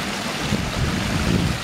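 Wastewater pouring from a factory sewage pipe into a stream, a steady broadband rushing wash with no pauses, fairly loud and close.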